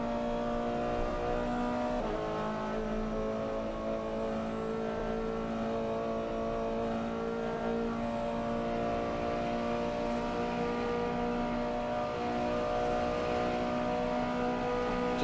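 Race car engines in a racing video game at Daytona, with a Corvette and a Scirocco in the field, droning as a sustained, steady tonal whine at moderate loudness, with no voices over it.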